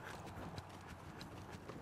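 A saddle horse's hooves clip-clop steadily on the footing of a riding arena, faint and distant beneath a broad wash of background noise, with no voices.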